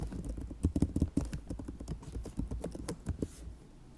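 Fingers tap quickly on a computer keyboard while entering text in a terminal, producing close, irregular bursts of light clicks that thin out toward the end.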